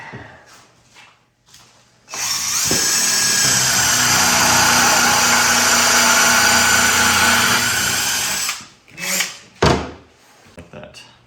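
A power drill drives 3-inch screws into twisted wood while insulated padded doors for a cat house are built: one loud, steady whirring run of about six seconds, with brief knocks and voices before and after.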